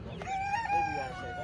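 A rooster crows at a game bird swap in Michigan, a single sustained call set against the busy murmur of a crowded poultry sale with other fowl nearby.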